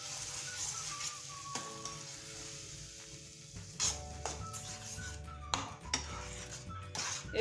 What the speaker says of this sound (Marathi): आता यामध्ये मी ही टोमॅटोची प्युरी होती ना घालून घेते आणि छान मिक्स करून घेऊया